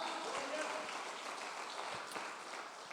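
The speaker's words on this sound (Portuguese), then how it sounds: "Bata as palmas para Ele, diga glória." A church congregation claps during a Portuguese-language service in a continuous broad wash of applause, with voices running over the clapping.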